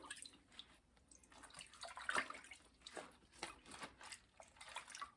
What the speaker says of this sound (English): We're just going to start putting them in that vinegar water.